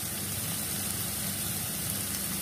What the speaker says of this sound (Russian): И мнем ее вот так вилкой.